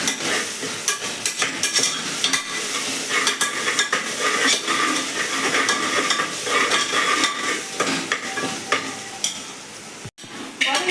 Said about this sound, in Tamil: இஞ்சி பூண்டு பேஸ்ட் போட்டு நல்லா வதக்கிடணும்.